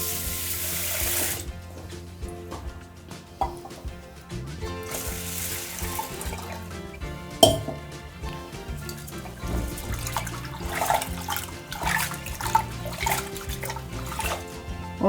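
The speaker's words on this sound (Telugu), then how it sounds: "ఇది బాస్మతి రైస్ 2-3 సార్లు నీట్గా వాష్ చేసేసుకోవాలి." Basmati rice being rinsed in water, about two glasses of grain, with steady sloshing, trickling and splashing sounds throughout, loud and close, with no talking.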